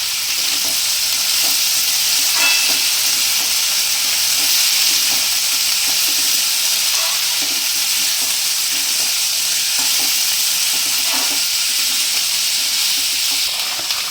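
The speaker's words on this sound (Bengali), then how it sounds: "সবগুলো আমি একসাথেই ভেজে নেবো।" Peas, cauliflower, potato, carrot and beetroot fry together in hot oil, a loud continuous sizzle with bursts of steam and occasional scraping stirs, running steadily without talk.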